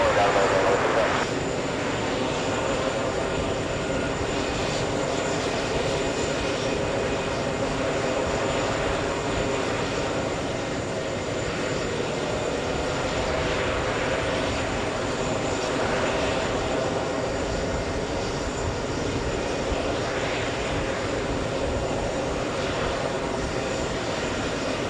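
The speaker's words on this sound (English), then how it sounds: "Lufthansa 410 flying in from Bavaria" A Lufthansa Airbus A350 airliner flies in to land at JFK Airport, its engines making a continuous broad roar for the full length, steady and fairly loud, with a voice talking over it at times.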